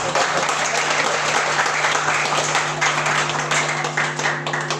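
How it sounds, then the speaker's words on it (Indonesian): A congregation at a church family gathering claps together in loud, steady applause lasting several seconds, full and close, with a faint hum beneath the clapping. "Tepuk tangan untuk kita semua."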